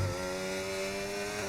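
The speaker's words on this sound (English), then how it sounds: "listening to that lovely, beautiful Mercedes engine" Mercedes Formula-style race car engine in a racing video game holding a steady high drone on a fast lap, continuous and fairly loud with no voices over it.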